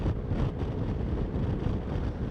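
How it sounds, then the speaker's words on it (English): Steady low rumbling wind buffeting a microphone, loud and continuous for the whole stretch, with no voices. "it's a bit windy today"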